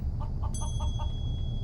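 A rooster in the video game Journey: Voyage to the Moon clucks in a quick run of five short, even calls, followed by a thin high tone and a low background hum.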